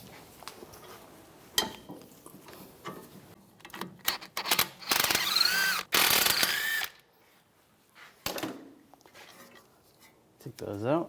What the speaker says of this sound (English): Take these two caliper bolts off, use a 17mm socket.